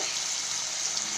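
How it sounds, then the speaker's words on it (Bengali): Onions frying in a pan while cooking an egg malai curry give off a steady, close hiss of sizzling oil that holds evenly throughout with no voices. "পেঁয়াজটা একটু ভাজা হয়ে গিয়েছে।"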